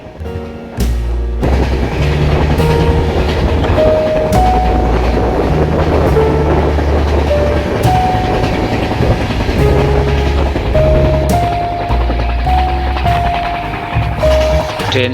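A train on the Agartala to Guwahati route rumbles loudly and continuously, wheels clattering rhythmically over the rails, with metallic squeals and clanks rising over the deep roar.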